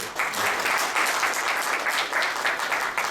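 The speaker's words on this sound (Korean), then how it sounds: "격려 차원에서 송 본부장께 박수로." An audience at an aviation industry development forum claps in a steady, full burst of applause, continuous and fairly close throughout the short stretch.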